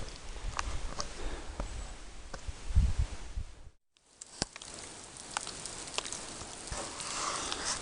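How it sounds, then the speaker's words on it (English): Light rain pattering steadily on a mountain trail, soft dense hiss with scattered sharper drops, brief dropout midway, then continuing evenly with no talk. "It's not raining super hard, but just enough I boogied it off the mountain to tree line as fast as I could."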